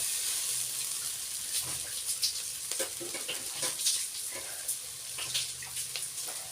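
Pulao with masala fries in a pan, a sizzling hiss broken by scraping and knocking as the food is stirred close by.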